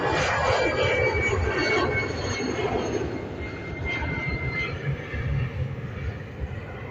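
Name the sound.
Aer Lingus Airbus A320 jet taking off at airport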